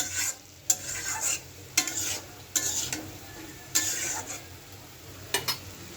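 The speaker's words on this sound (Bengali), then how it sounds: "এখন সবজিটা কষাইতে থাকি।" A spatula scrapes and tosses vegetables being sautéed in a pan for a sour curry in irregular strokes, with a soft sizzle underneath.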